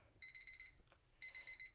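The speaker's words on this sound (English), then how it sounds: "Timer, Deborah." Timer alarm going off, two bursts of rapid high electronic beeping separated by a short pause, faint and alone without talk.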